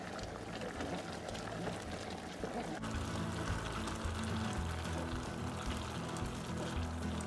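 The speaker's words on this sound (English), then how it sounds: "You're gonna let it boil until the okra starts being soft and start dissolving" A pot of okra stew with snail boils on the stove, giving a faint, steady bubbling and simmering that continues throughout with no talking.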